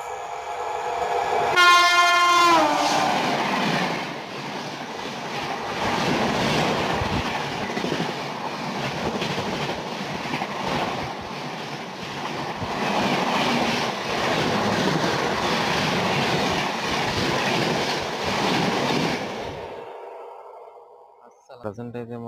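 Machilipatnam Express pulling away on its journey from Visakhapatnam, a horn blast near the start giving way to steady, loud rumbling and rhythmic clickety-clack of the wagons for about twenty seconds before fading.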